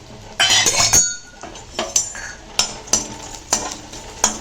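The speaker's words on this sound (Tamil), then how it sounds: "இப்போ இதை போட்டு வறுத்துக்கலாம்" Ingredients for buttermilk rasam hit hot oil with a short burst of sizzling, followed by a series of sharp metal spoon clinks and scrapes against the pan at a steady stirring pace.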